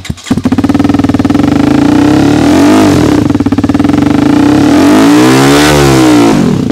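TVS Apache RTR 310 motorcycle fitted with an SC Project exhaust, revved loudly and close up, holding a steady high idle-to-rev drone with rising and falling throttle blips, alone without talk.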